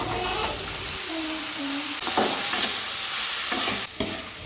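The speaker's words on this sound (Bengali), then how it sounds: "ঘুগনির ভেতরে যে আলু পেঁয়াজ দেবো মশলা দেবো সেগুলো একসাথে ভেজে কষানো হয়ে গেছে তেল ছাড়তেও আরম্ভ করে দিয়েছি" Potatoes, onions and spices frying together for ghugni, oil hissing steadily in a pan up close, with a few louder scraping stirs cutting through the continuous sizzle.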